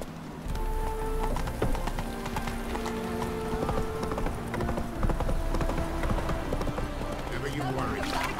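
Hooves of the horse Roach clip-clop steadily in The Witcher 3, with light musical tones layered over the rhythmic footfalls.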